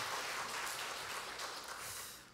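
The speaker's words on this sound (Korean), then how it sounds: "하나님께 영광의 박수를 드리겠습니다" Applause from a church congregation during a Sunday worship service, a dense broadband wash of many hands clapping steadily and fairly loud, slowly tapering toward the end with no talking over it.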